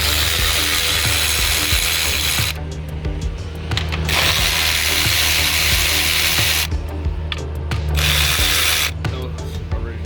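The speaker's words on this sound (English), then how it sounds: "Then you want to get the 8mm ratchet," An 8mm ratchet backs out the crankcase filter cover bolts on a Dodge Ram 6.7 Cummins, giving rapid, loud, close clicking in several bursts with short gaps between, over a steady background hum and no talking.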